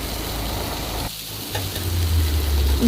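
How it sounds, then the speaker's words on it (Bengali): Chicken pieces frying on a flat tawa over a gas flame for a homemade tandoori chicken, a steady loud sizzle that briefly drops out and then resumes stronger. "আবারও চিকেনের অপর পাশটা দিয়ে ভালো করে ভেজে নিতে হবে"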